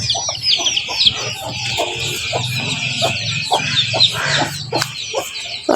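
Ducklings and chicks peep in a busy, continuous chorus close by, with occasional louder clucks from poultry in a rural yard.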